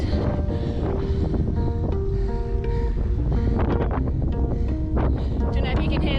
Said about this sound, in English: Don't know if you can hear that wind as well